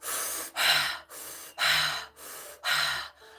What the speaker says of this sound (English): So you're going to breathe like this.